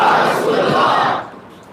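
A crowd at a religious lecture roars Islamic slogans back in unison, a loud, dense mass of shouting voices that swells together and then drops away near the end.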